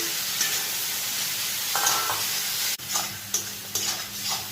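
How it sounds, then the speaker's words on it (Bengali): Soaked Wai Wai noodles tipped into a pan of frying egg raise a steady, loud sizzle and hiss, broken by scraping stir strokes and a sharp clatter near the end, with no voices. "আমরা যেই ওয়াইটা জলের মধ্যে ভিজিয়ে রেখেছিলাম সেটা এখন দিয়ে দেব"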